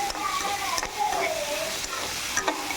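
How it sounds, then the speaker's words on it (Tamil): Chopped tomatoes sauté in a pan with a soft, steady sizzle, broken by scraping stirs of a spoon; fairly quiet and close, with no talk over it. "தக்காளி நல்லா வதங்கணும், பச்சை வாசனை போக நல்லா வதங்கணும்."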